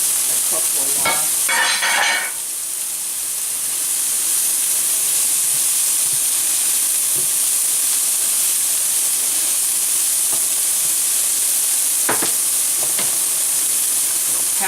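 Salisbury steak patties fry in a pan with a loud, constant hissing sizzle throughout. A brief burst of utensil scraping comes early, then only scattered clicks.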